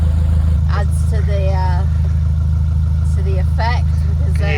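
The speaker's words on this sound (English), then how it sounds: "there's an engine running" Car engine with a faulty ECU running in a steady low rumble under the whole stretch while people talk over it.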